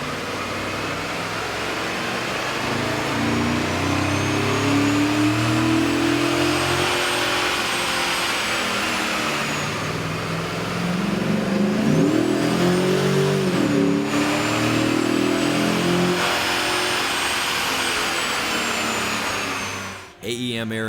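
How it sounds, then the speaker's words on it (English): A Chevrolet Tahoe's 5.3-liter V8 revs steadily on a dyno, a loud sustained engine roar that climbs and falls in pitch, comparing the stock intake with an AEM air intake, then cuts off abruptly near the end. "Here's a comparison of the truck sound on the dyno with the stock OEM system versus AEM's air"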